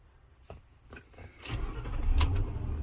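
A car engine starts after clear flood mode is released, with a few clicks and clunks, then the engine catching and settling into a rising, rumbling idle, close and moderately loud with no talking.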